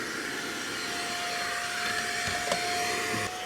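An injector-extractor machine cleaning car seats runs with a loud, steady vacuum roar and high whine, close and continuous, with a few faint knocks near the end.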